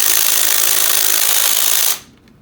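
Hammer drill boring holes, running continuously at full loud volume with a harsh, rattling grind for about two seconds, then cutting off abruptly, leaving faint room noise.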